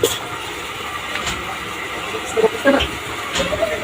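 Inside a passenger train compartment: a continuous rumbling, hissing ambience with a few sharp clanks and knocks near the end, and faint voices in the background.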